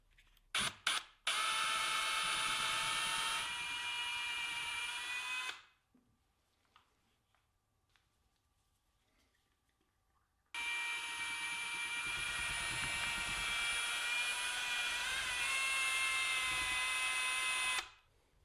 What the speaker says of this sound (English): I made a makeshift one with a paint stick and cut the end off so it'll fit in my drill